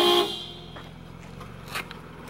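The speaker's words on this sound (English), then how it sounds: "A couple of honks." A car horn blares briefly at the start, then fades into traffic noise and low rumble, with a faint second honk a moment later.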